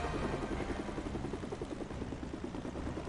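A helicopter in a Lego Avengers video game whirs continuously, its rotor chopping in a fast, even pulse beneath a steady engine hum, moderately loud and without voices.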